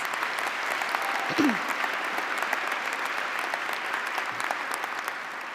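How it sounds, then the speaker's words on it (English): An awards ceremony audience gives students warm applause, a long, even wash of clapping across the hall with one brief low vocal whoop near the start. "So let's give them all a warm round of applause."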